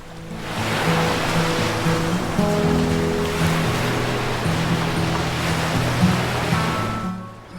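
Continuous roar of sea waves washing onto a Konkan beach, with a low steady hum underneath and no voices.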